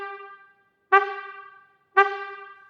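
Trumpet playing three short, bright notes, each one cut off abruptly by the tongue stopping the air, evenly spaced about a second apart with silence between them.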